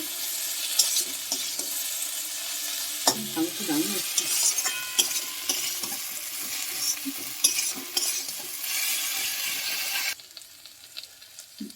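Mustard paste with a little sugar being sautéed in a pan: a steady, close sizzle with continuous stirring scrapes and utensil clinks, easing into quieter frying near the end.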